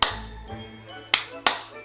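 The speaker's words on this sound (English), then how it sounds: "Clap sync." Three sharp, loud hand claps ring out close by: one at the start, then a pause, then two more in quick succession.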